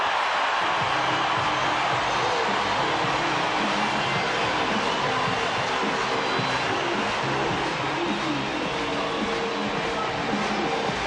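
Huge stadium crowd of 68,000 roaring continuously at the 1997 World Series Game 7 between the Cleveland Indians and Florida Marlins, a dense sustained wash of cheering with a broadcaster's voice faintly mixed in.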